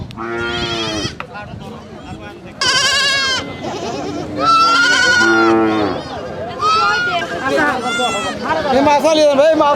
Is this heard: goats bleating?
yes